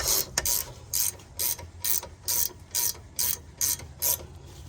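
A ratchet wrench clicks in quick bursts while tightening a wheel stud nut on a 2012-2015 Honda Civic, about eight short even clatters in a regular rhythm, close and clear with no talk.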